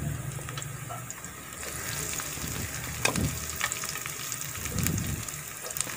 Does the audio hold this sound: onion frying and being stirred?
yes